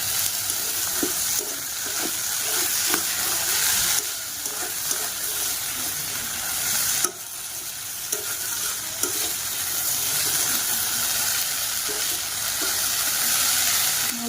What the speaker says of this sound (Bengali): আলু ভাজা বসিয়েছি।